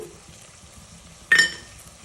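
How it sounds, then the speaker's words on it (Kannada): Mushroom sambar ingredients fry on low flame in a pan: a faint, quiet sizzle broken by one short, louder burst as the mixture is stirred, with no voices. "ಈಗ ಇದೆಲ್ಲ ಹಾಕ್ಕೊಂಡು ಕ್ಲೀನಾಗಿ ಫ್ರೈ ಮಾಡ್ಕೋಬೇಕು"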